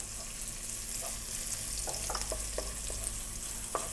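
Chopped garlic and ginger sauté in a pan with a loud, continuous sizzle, broken by several sharp clicks of a utensil stirring against the pan; no one speaks.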